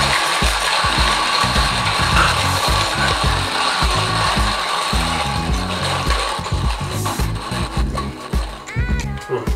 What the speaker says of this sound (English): They're grinding with the Commandante.